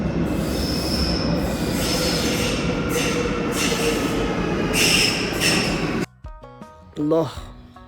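A metro train rumbles in and its wheels squeal loudly as it brakes, then the roar cuts off, leaving a chime and a voice over the station.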